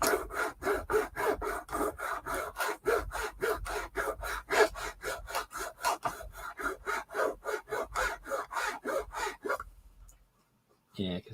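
Hand file rasping across metal in a steady rhythm of about two dozen even back-and-forth strokes, close and fairly loud, with the file cutting poorly, then stopping near the end.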